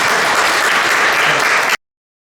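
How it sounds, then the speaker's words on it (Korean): Loud, steady applause from an audience fills the clip, dense clapping that continues evenly before cutting off abruptly. "큰 박수로 맞아주시기 바랍니다."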